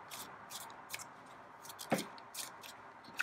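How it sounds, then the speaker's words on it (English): Oracle cards are handled and shuffled in a quiet room, giving soft repeated papery riffles and slaps at an uneven rhythm with one sharper snap near the middle. "keep shuffling a bit longer"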